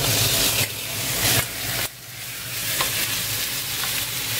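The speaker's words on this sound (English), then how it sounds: "And we give that now into the hot pan." Marinated meat seasoned with paprika, pepper and thyme fries in a hot pan with a loud, hissing sizzle that dips briefly when stirred and then swells again, close and alone.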